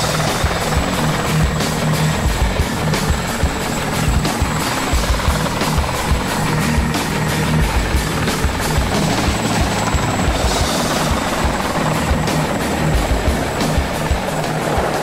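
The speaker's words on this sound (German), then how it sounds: "Doch nun suchen auch Hubschrauber nach ihnen." A helicopter flies low over a forest, its loud, continuous rotor thump and turbine whine filling the whole stretch without pause, close and dominant with no voices.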